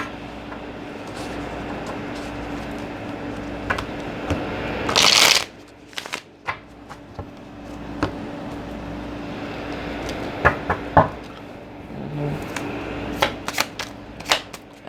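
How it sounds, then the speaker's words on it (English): Tarot cards shuffled and drawn from a deck, with a burst of riffling around the middle and scattered crisp card snaps and taps afterward, close-up against a faint background hum, with no talking. "Let me get 2 other cards from this deck."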